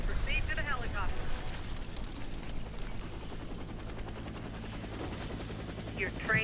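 A military helicopter in the shooter video game Warface gives a steady, close rotor drone and engine rumble throughout, with a voice speaking over it.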